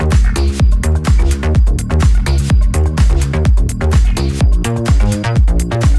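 A remix plays with full drums: a dense, loud electronic track with punchy kicks and percussion hitting in a steady, driving rhythm throughout, with no voices.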